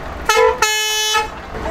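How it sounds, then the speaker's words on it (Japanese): A Shinkansen-style horn fitted to a dump truck at a dump truck gathering in Okinawa sounds two loud, close blasts: a short toot, then a longer sustained one, both bright and strongly tonal. "あ、新幹 線ホーン。 シークレットホーン。"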